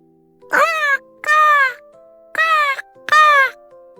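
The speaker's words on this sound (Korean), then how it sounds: "마을 사람들은 까치의 울음소리를 들으며 생각했어요." Four harsh, drawn-out magpie calls with scratchy, nasal tones, evenly spaced with short silences between, close and clear.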